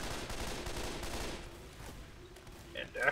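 Gunfire from a gun in the video game Left 4 Dead 2, a quick run of fairly faint shots under low game noise, followed by brief bright effects at the end.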